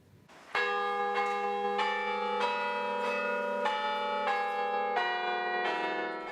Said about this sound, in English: These are not your typical church bells. They're what's known as a carillon.